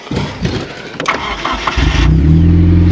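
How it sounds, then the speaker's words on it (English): An overlanding vehicle's engine cranks and catches on a hilltop in desert sand, after some rustling and clicks, then settles into a steady, loud running drone. "Do you want to keep the engine on?"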